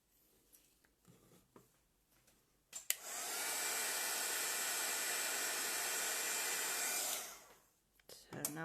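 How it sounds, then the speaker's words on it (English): A craft heat tool blows hot air to darken black paint on a handmade eye decoration. It runs as a loud, steady whoosh for about four seconds, with quiet handling noises before and after. "Luckily, this is something I can use the heat tool"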